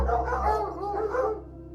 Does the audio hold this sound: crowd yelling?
no